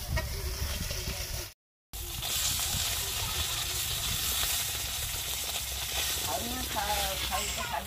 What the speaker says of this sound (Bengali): সব মাছগুলো ভেজে নেব একইভাবে